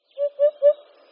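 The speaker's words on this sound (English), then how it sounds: "Hoopoes." Hoopoe giving its call: three soft, evenly spaced hollow hoots in quick succession, close and clear against a quiet background.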